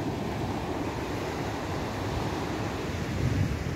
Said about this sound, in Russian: Зимний пляж.